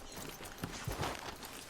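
Horses in Red Dead Redemption 2 clop softly at a walk, a few faint hoof strikes over quiet ambient background.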